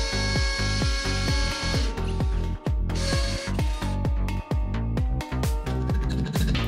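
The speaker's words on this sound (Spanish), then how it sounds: "Colocamos taquete y hacemos la perforación de la otra guía." Power drill boring into an aluminium window guide, a loud pulsing grind with rhythmic stuttering bursts and brief stops, close and with no voices.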